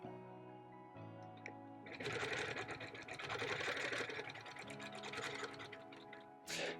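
A sewing machine quilting a bird panel quilt runs in a long, continuous whirring stitch. Short pauses break the run, where a single anchor stitch is taken before stitching resumes. The sound is close and steady.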